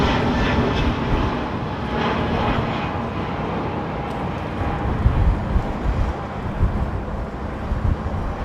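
Aircraft engine noise at London Heathrow with an ATR turboprop nearby, a steady broad rumble with faint droning tones and gusts of wind buffeting the microphone, at moderate distance.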